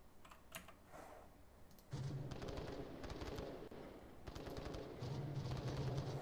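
Gunfire in the VR shooter Onward during a competitive match, with rapid automatic bursts close by, arriving in two main volleys, plus softer clicks and shots earlier.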